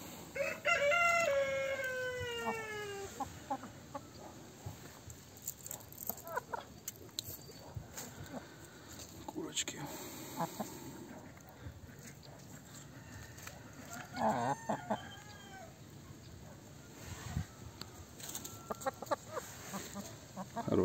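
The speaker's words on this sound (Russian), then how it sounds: "Петух очень крупный, молоденький еще, месяцев 10, наверное, 9 даже, но уже очень хороший" A young golden-laced Orpington rooster, about nine or ten months old, crows once clearly and close at the start, then crows again more faintly later amid quiet farmyard clucking and someone speaking.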